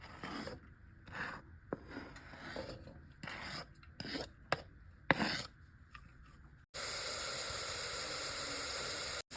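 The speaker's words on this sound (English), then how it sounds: "I'm going to saute my onion for a few minutes" Onion sautéing in a pan for a creamy tomato soup: close, intermittent scraping and stirring strokes over a soft sizzle, then a continuous loud hiss of frying in the final seconds.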